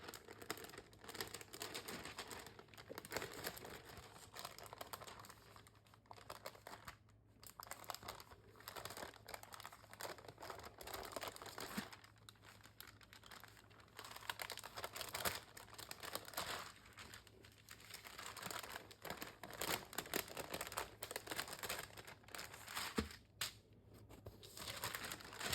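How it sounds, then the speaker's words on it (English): A sheet of beeswax food wrap is peeled slowly off parchment paper, giving a long, quiet run of close crinkling and crackling with small irregular snaps and no talking. "you're just going to peel it off this paper,"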